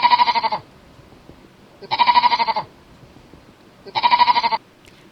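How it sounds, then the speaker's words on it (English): A sheep in a pen gives three loud, wavering bleats, each about half a second long with a quivering tone, spaced about two seconds apart against a quiet background. "Sheep,"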